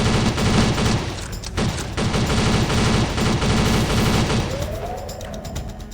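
Rapid, loud automatic gunfire in the DIRT Project video game as a big robot boss is shot, in dense sustained bursts with a brief gap, then tailing off into a rising mechanical whine.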